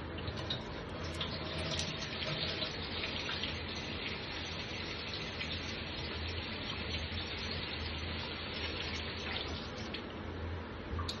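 Water runs steadily as dirty water is flushed out of a bottle, a continuous, even splashing gush at moderate level with no talk over it.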